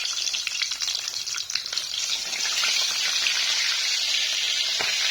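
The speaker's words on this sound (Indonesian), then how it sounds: "Ini pentolnya nih digoreng." Meatballs (pentol) frying in hot oil give a steady, close crackling sizzle that thickens and grows more even toward the end, with a few faint clicks from the pan and no talking.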